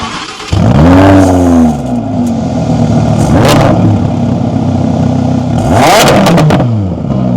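A Lamborghini Huracán 5.2 V10 engine roars close by, revving hard several times in quick bursts with deep rising and falling pitch, loud and alone.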